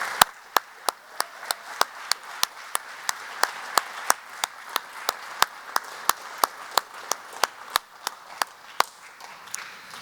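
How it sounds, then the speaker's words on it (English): Sparse, evenly spaced sharp claps ring out one after another at a community conversation gathering, like a single person or a few people clapping in a slow steady rhythm, with no voices. "I'd like for you to once again join me in a round of applause"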